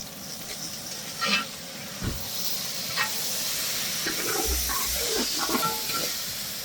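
Onions and tomatoes sizzle in a pan for a Karaikal-style fish thokku, giving a steady close hiss with occasional scrapes and stirring knocks, and no voices.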